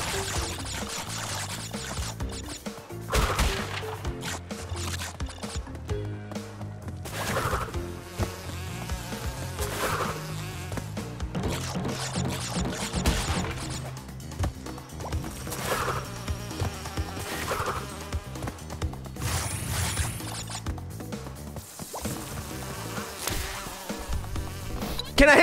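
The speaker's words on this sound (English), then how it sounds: "The bees are here." Bees in the Crash Bandicoot 2 N Sane Trilogy platform game buzz steadily throughout, layered under constant game music and effects with rhythmic pulses, no talking.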